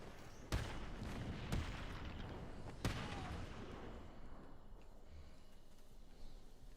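Grenade blasts in the video game Batman: Arkham City: three sharp, booming bursts in the first three seconds, each trailing off into a rumbling decay before the sound thins out.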